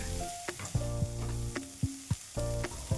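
Cluster beans and mixed sprouts being stir-fried in a pan, a soft steady sizzle broken by regular sharp spatula knocks and scrapes as the vegetables are tossed.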